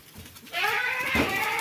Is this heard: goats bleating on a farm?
yes